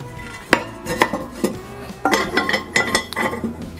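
A ceramic ring clatters into place inside a Kamado Joe Junior ceramic charcoal grill, with several close, sharp clinks and knocks of ceramic against ceramic spread over a few seconds and no talking.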